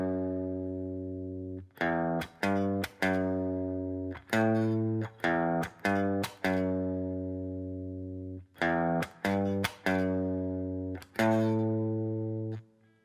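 Electric guitar playing a riff, clear, moderately loud picked notes in a repeating pattern with short gaps between phrases, played alone.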